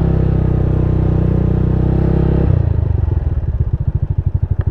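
A motorcycle engine drones loud and close at a steady pitch, then shifts to a rough, pulsing chug as it moves or idles, no talk over it.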